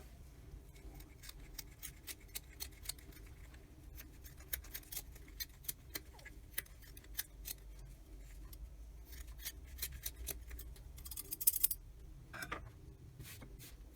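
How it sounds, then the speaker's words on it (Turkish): Quiet, repeated snips of scissors trimming rope, small sharp clicks at an irregular pace, close by, with a slightly louder cluster of cuts near the end. "Şimdi tam duyumuzun hizasından fazla olan kısımları makas yardımıyla ufak ufak keselim."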